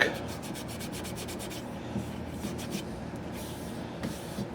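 Hand rubbing boiled linseed oil finish into a wooden rifle stock from a Lyman Great Plains Rifle kit, a soft, steady close-up friction sound with faint rhythmic strokes.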